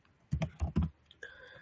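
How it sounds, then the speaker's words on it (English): Password being typed on a computer keyboard, three quick close key clicks in a short burst, then a single sharper press of the enter key after a brief pause. "by mistake I type this and press enter"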